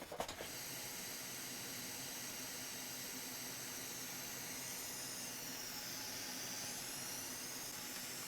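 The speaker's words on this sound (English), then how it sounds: "Fume extractor on, very important." A fume extractor fan runs at a laptop repair bench, giving a faint, steady airy hiss and whoosh after a few brief knocks at the start.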